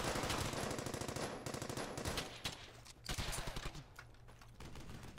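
Thompson submachine gun fire in Brothers in Arms: Hell's Highway, rapid rattling bursts rolling on continuously, fairly quiet, with a couple of brief lulls.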